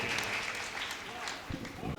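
Audience at a Hindi poetry recital, a kavi sammelan, claps in a dense, lively burst of applause, with a voice briefly audible beneath it.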